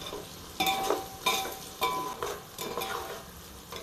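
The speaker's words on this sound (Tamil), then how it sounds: "அதனால் பிடிச்சிக்கிட்டே கிண்டிகிட்டு இருக்கேன்" Onions frying for chicken biryani are stirred in a pan, a soft sizzle under a series of scraping strokes that come roughly every half second, each with a light metallic clink of the spoon against the pan, close and fairly quiet.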